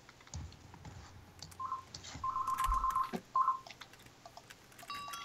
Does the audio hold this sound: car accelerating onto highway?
no